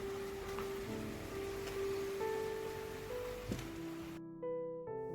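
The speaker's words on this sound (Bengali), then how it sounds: "বাইরে প্রচণ্ড বৃষ্টি হচ্ছে" Heavy, steady rain falls outside a hotel in Pelling, Sikkim, making a continuous close hiss throughout with no voices, while faint tonal sounds sit behind it near the end.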